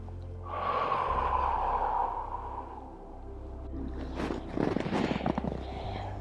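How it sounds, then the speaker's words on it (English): A big, deep breath taken while holding a yoga hug pose: a long, loud airy inhale followed by a rough, breathy exhale with faint rustling, close and clear, with no speech. "One big breath here."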